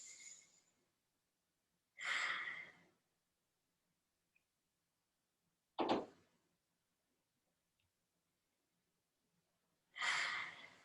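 Slow, deliberate breathing in a pranayama breathwork exercise: soft airy inhales and exhales, each about a second long, spaced by several seconds of silence, close and quiet with no talking.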